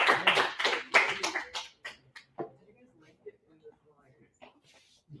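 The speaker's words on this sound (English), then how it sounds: "A big round of applause." Brief burst of clapping from a classroom audience for a university course session, loud at first and quickly fading out, followed by quiet room noise and faint shuffling.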